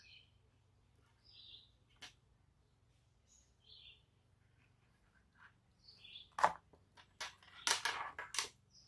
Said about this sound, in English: I'm not sure if you guys can hear the birds all chirping, but it sounds such a happy sound.